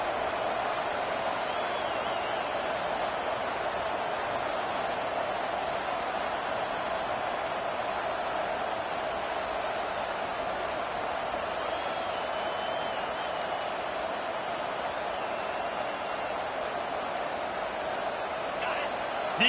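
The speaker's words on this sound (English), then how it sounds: "Listen to this crowd just shaking the girders of this place, trying to help their defense." A packed football stadium crowd roars steadily for the defense on a third-and-long, a dense sustained wall of cheering heard from the broadcast booth, with no break in the noise.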